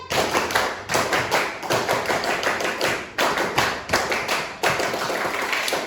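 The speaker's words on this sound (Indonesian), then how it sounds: "2 kali tepuk PKM." A classroom of students claps together in a drilled PKM clapping routine, sharp hand claps landing in quick repeated clusters with brief gaps between groups, close and fairly loud, with no voices.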